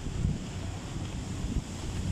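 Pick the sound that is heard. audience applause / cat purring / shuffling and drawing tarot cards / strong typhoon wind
strong typhoon wind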